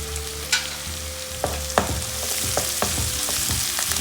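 Curry leaves frying in hot oil, a bright continuous sizzle with sharp crackles and pops that grow busier after the leaves go in, close up with no talking.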